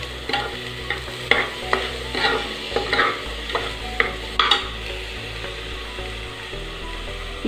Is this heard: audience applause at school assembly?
no